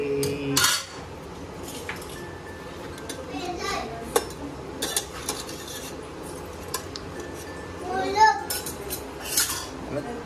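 A metal container holding a homemade pizza is set inside a pressure cooker, giving scattered metallic clanks and scrapes of cookware. Children and adults talk throughout.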